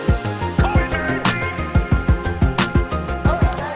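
Retro synth pad chords built from the Berlin Experience stock sounds in Logic Pro X, moving in cadences within a dense electronic arrangement with a steady pulsing rhythm and bright percussive hits, loud and full.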